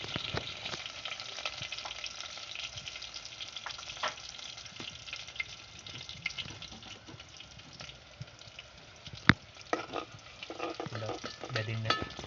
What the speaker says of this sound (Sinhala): තෙල් ටික රත් වෙනකොට මේකට කපාගත් හීනෙට කපාගත් සුදු ලුණු ටික,